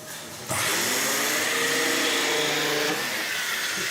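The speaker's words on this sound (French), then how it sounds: "Je suis en train de couper les parapluies avec un patron en carton et un ciseau électrique." Electric scissors buzzing steadily as they cut polyester umbrella fabric along a cardboard pattern. A sharp motor whine switches on abruptly and runs loud and continuous, easing slightly near the end.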